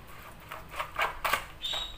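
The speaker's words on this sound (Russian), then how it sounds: "Сейчас это все перемешиваем" A spoon scrapes and mixes Turkish pepper paste with oil, thyme, salt and spices in a bowl, giving soft wet squelches and light clinks in several quick strokes.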